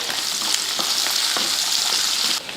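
Small and large onions fry with fennel seeds and curry leaves in hot oil, a loud, steady close-up sizzle with faint stirring scrapes, cutting off abruptly just before the end; nobody talks.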